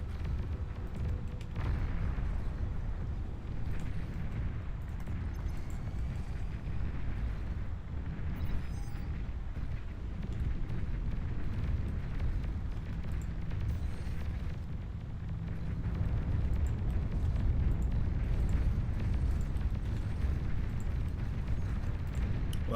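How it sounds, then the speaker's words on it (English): Nuclear missile launch and detonation in the strategy game Beyond All Reason, a sustained heavy low rumbling roar that swells and persists at high loudness throughout, with no talk. "Nuclear missile launch detected."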